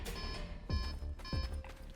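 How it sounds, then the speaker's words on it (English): An in-game alarm sounds during a heist in the Fortnite video game, a bright repeating electronic tone pulsing in quick, regular bursts. "Now, it set off the alarm"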